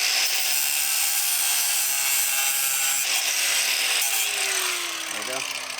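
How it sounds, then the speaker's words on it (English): A power tool cuts off a small bracket on a 4th gen Toyota 4Runner near the pinch welds, a loud continuous grinding whine that holds steady, then drops in pitch as the cut finishes. "I'm going to cut this little bracket off right here"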